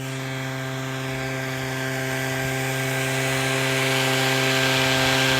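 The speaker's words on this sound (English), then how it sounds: "Almost everybody does it by like a lawnmower-like machine." A motorized tea harvesting machine, like a lawnmower, shears green tea leaves in a Shizuoka, Japan field with a steady droning engine hum that slowly grows louder as it approaches.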